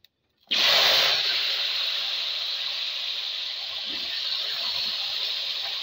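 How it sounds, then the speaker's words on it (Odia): Sliced potatoes drop into hot oil with cumin and mustard seeds, setting off a sudden loud sizzle that stays strong and steady, hissing close up without pause. "ଆଳୁକୁ ଟିକେ ଖରଡ଼ି ଦେବା।"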